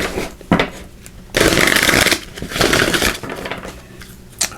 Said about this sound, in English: Let's give it a couple shuffles here.